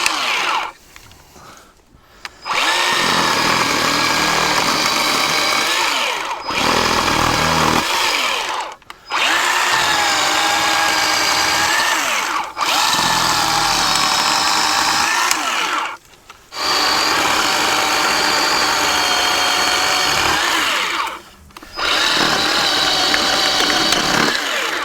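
A Harbor Freight 10-inch electric chainsaw runs loud and close in several long sustained bursts of whining motor and chain, separated by short quiet gaps where it is released.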